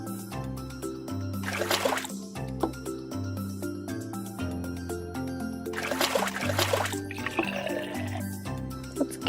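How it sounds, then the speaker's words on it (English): Water is poured into baby powder to make baby food during toy doll play. Two splashy bursts of pouring and trickling rise over steady background music. "Let's add a little water."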